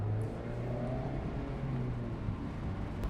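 A 2024 Mazda MX-5 Grand Touring RF sports car driving, with a steady engine drone and rising harmonic tones as it accelerates, heard close and continuous with no talk over it.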